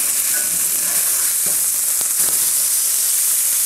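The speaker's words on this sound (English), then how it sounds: "we're just gonna take a fish spatula here and gently flip those over" Salmon fillets sizzling steadily in a hot pan as a fish spatula flips them, a loud continuous frying hiss with a few soft scrapes and taps of the spatula partway through.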